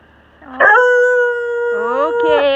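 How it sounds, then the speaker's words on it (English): Small dogs let out loud, close howls and yips in a drawn-out wavering cry that rises and falls over a couple of seconds, with no talking. "If funny that the littlest dogs make the most noise."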